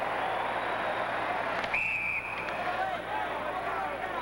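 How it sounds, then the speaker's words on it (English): A referee's whistle at a 1980 ice hockey game between the USA and Finland in Lake Placid gives one shrill, sustained blast over steady arena crowd noise while a commentator talks. "The whistle there was for the puck striking a high stick"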